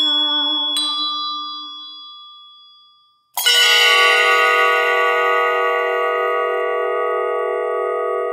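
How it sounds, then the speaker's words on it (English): A bell rings loud and close: a first ding decays slowly over about three seconds, then a second, brighter strike with rich ringing overtones sustains evenly to the end. "This bell sings, I am Roland."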